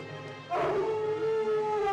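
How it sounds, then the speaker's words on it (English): A monster howls at the moon in a music video, one long rising and sustained wail, loud and close, with no talking over it. "Howling at the moon like all monsters do."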